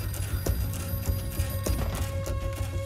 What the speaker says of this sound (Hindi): सुब्रमण्यम, तुम्हारा फोन है।